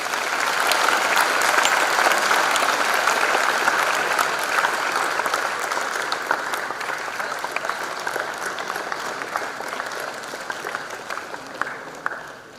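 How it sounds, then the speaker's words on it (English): An audience at a university freshers' induction programme in Chennai applauds for the chief guest, a loud, sustained wash of many hands clapping together that slowly thins and fades toward the end. "Let's give a round of applause."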